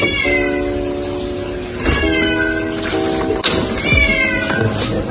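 A cat meows repeatedly up close, several drawn-out, insistent cries in a row with little else around them.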